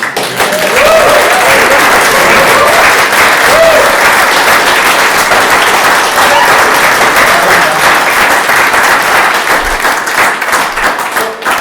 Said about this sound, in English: if anyone is due a round of applause